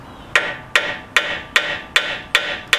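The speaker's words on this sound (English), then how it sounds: "take a metal head hammer and just tap on the top" Sharp metallic taps ring out seven times at an even, steady pace, each metal-head hammer strike on the top of a 2010 Camaro SS brake caliper bright and short with a quick decay.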